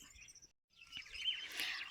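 High, thin chirps from chicks come in short bursts, with a brief quiet gap, then a denser stretch of overlapping peeping nearby in a garden.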